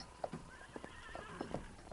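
In a radio drama scene, a horse gets up, its hooves thudding in a few irregular clip-clops along with short snorts and a faint whinny, all quiet and close.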